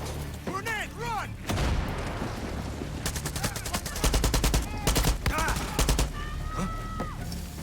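A grenade blast and heavy gunfire erupt in Far Cry 6. Rapid bursts of automatic fire crack loudly and close, mixed with booms and chaotic game sounds.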